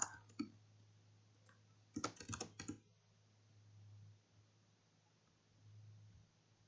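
A computer keyboard being typed on, a quick opening click and then a dense burst of clicky keystrokes in the middle, near and fairly clear over a low steady hum, with quiet gaps between the bursts.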